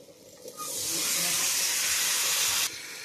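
Chicken pieces dropped into a pan of fried spice paste burst into a loud, steady hissing sizzle that holds for about two seconds before cutting off abruptly.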